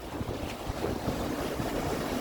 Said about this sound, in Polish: No to są takie fale, że go ochlapało.